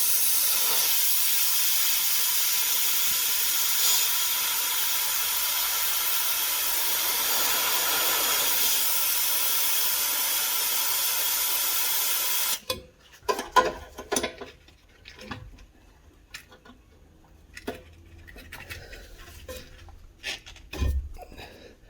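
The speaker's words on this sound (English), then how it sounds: "I'm going to use the trusty crack it now and give it 30-second spray" Crack It penetrating fluid sprayed from an aerosol can onto a seized 11mm brake pipe nut while removing the rear axle of a Citroen Berlingo Multispace: a loud, steady hiss for about twelve seconds, then scattered tool clicks and knocks.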